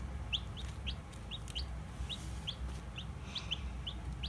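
Young chicks chirping and clucking in a small brood, with short high peeps repeating in a quick, irregular run over a low, steady background rumble.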